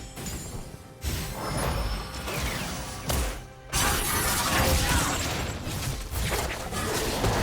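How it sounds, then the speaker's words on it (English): Turret destruction in League of Legends: a loud crumbling shatter with mechanical clanks and debris, broken by two brief drops, over continuous game effects and music. "Blue team's turret has been destroyed."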